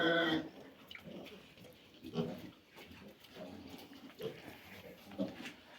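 Piglets newly born to a sow grunt softly and intermittently in a quiet pen, with scattered low snuffles and one brief higher squeal at the start.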